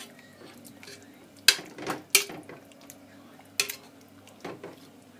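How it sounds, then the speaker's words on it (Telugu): Boiled potatoes being mashed with a masher in a pressure-cooker pot for a Telugu potato curry, giving a few sharp metallic clanks and scraping thumps spaced irregularly over a quiet kitchen background. "ఇలా స్మాషర్తో బాగా స్మాష్ చేసుకొని"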